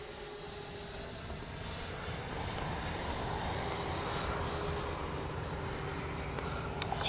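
A Freewing 90mm Zeus RC jet making a gear-down flyby pass, a steady distant engine whine and rush that swells slightly midway and then eases off.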